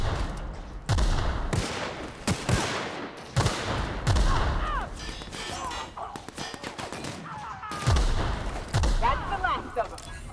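Gunfire in the video game The Outer Worlds, bursts of loud shots and booming blasts in irregular clusters, close and harsh, mixed with game sound effects.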